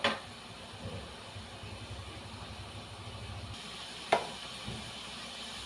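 Onions shallow-frying on a high flame for chilli chicken: a faint, steady sizzle with a low hum underneath, marked by a sharp clink at the start and another partway through.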